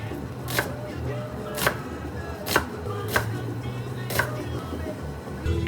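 Knife chopping onions for a stew on a board, about six sharp evenly spaced strikes roughly a second apart over low kitchen background noise.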